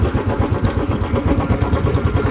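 A motorcycle engine idles steadily close by while being parked at a scenic spot, a continuous low, pulsing putter throughout with no speech.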